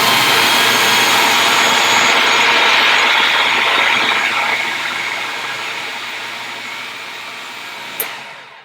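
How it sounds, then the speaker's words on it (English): A food processor blends an avocado, cilantro and Greek yogurt dip, a loud whirring motor roar that holds for several seconds then gradually winds down, ending with a sharp clack. "Hello, food processor. So it's going to get loud for a second."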